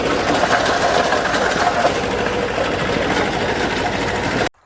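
A tractor engine runs steadily and loudly up close with a dense rumbling drone and mechanical rattle throughout, cutting off abruptly at the very end.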